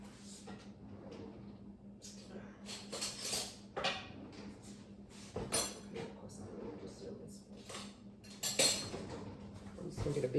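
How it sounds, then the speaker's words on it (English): Cutlery clinks and rattles as a big metal tablespoon is fetched in a home kitchen while pecan pie filling is being made, with scattered knocks of drawers or cupboards under a person talking throughout. "I'm just going to get a big tablespoon here"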